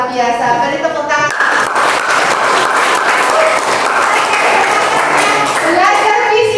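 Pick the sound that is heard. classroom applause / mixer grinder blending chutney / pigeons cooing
classroom applause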